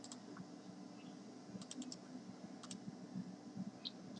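Code being typed on a computer keyboard, a steady run of soft, quiet key clicks with a few sharper taps, close up and without talk.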